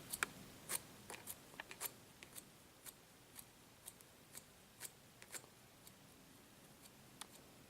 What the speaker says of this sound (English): consistently moving your comb and your scissors simultaneously